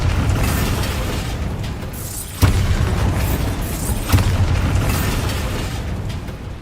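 Bombarda blasting spell explosions from Hogwarts Legacy, two loud booming blasts a couple of seconds apart over a continuous rumbling game soundscape.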